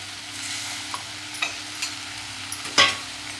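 Chopped eggplant and potato sizzling softly and steadily in a pan, with a few light utensil clinks and one sharper clatter near the end.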